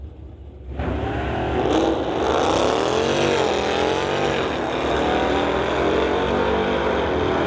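A 1966 Acadian with a 540 Chevy engine races a 2015 Dodge down a drag strip, launching into a loud, sustained roar of revving engines that holds to the end.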